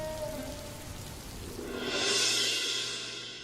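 Rain pours steadily on surfaces in a village setting. The continuous hiss swells louder and brighter midway, then eases slightly, with no voices.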